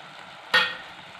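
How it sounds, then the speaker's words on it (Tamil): A single brief stir of thick Kerala-style Aravana payasam in a pot, after crushed cardamom and roasted coconut have been added, one short scraping swish and then quiet. "நல்லா கலக்கி விட்டுருங்க."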